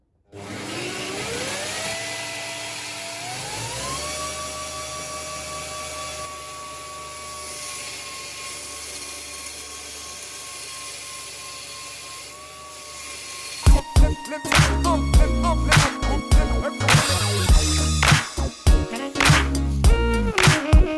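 A belt grinder shapes a steel knife blank: the motor spins up to a steady rising whine, then harsh, loud grinding bursts break in as the steel meets the belt.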